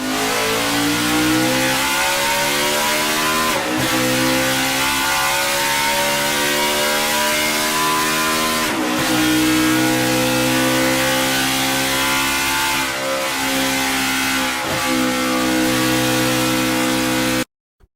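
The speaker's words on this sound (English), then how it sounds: "The Ford FR9. A Roush Yates engine." A Ford FR9 Roush Yates NASCAR V8 revs loudly and continuously, its pitch climbing and dropping in repeated sweeps with sharp gear-change breaks, close and alone without voices.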